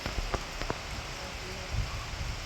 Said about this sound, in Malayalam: പക്ഷെ ഭയങ്കര മഴയും കാറ്റൊക്കെയാണ്, കറണ്ടും ഇല്ല.